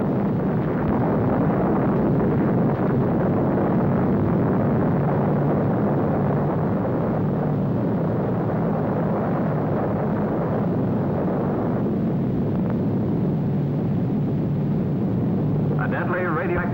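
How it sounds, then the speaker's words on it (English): Atomic bomb test explosion filmed for a 1955 newsreel, heard as a long, steady, loud roaring rumble like heavy wind that carries on without a break throughout. "A deadly radioactive cloud rises over 7 miles."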